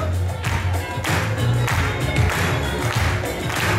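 Audience clapping at a rap performance, a dense, continuous wash of claps layered over a pulsing low beat, fairly loud, with no talking.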